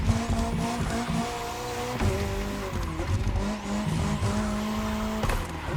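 A McLaren P1 drifts through a section of track in The Crew Motorfest, its tires squealing in long continuous skids over a steady engine drone, with a few shifts in pitch as the slide carries on.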